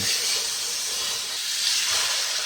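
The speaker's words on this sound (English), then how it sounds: "Now that we got them nicely seasoned, we're going to sear them in a pan." Seasoned beef searing in a hot pan makes a loud, dense, unbroken sizzle that holds steady throughout.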